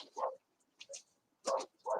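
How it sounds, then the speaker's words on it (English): A dog making noise indoors: short yips and whiny barks in four separate bursts with quiet gaps between them, close and moderately loud. "I have to get my dog back in here because he's being noisy"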